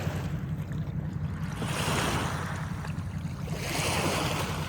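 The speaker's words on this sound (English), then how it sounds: "Those waves are from that barge." Waves from a passing barge wash and slosh against the shore in a steady surging rush, swelling twice in close succession.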